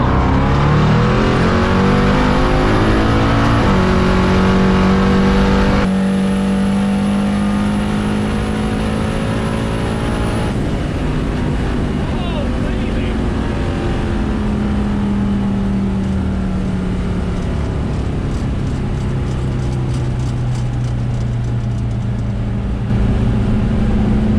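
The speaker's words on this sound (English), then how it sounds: "BMW M4 in front of us. It's got upgraded turbos and it's on a bit of ethanol." A BMW M4 with upgraded turbos running on an ethanol blend accelerates hard in a race, its engine note climbing loud and sustained through several gear changes with no talking.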